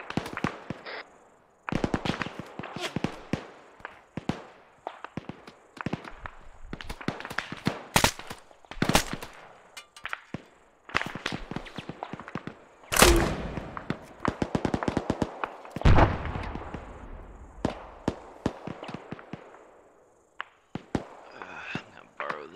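PK machine gun fire in ARMA 3, sharp loud cracks in rapid bursts and scattered single shots, with softer distant reports and whispered voices between them.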